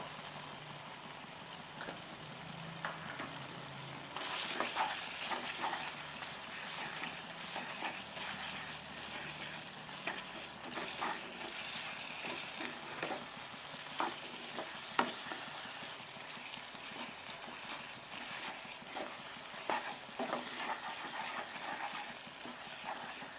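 Mutton curry masala with Kashmiri chili powder sautéing in a pan, a continuous close crackling sizzle with frequent stirring scrapes running throughout at moderate volume.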